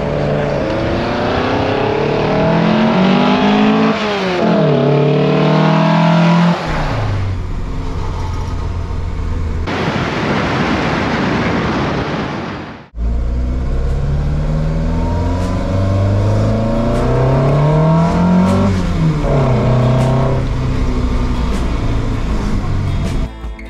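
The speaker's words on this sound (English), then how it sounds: "I would challenge anybody to show me a better sound than an old Datto Twin Webbers opening up." Old Datsun 1600 with an L-series engine on twin Weber carburettors, loud close revving that climbs and falls through repeated throttle blips, briefly cutting out mid-way before picking up again with more hard acceleration.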